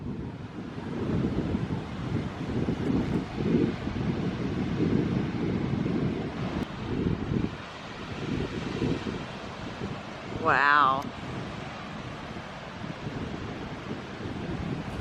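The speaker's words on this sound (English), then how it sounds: "It's super windy, so it's some big waves coming in." Strong wind and big ocean waves roll in on Santa Monica beach along the Pacific, a steady loud roar of surf and buffeting wind with one short spoken exclamation partway through.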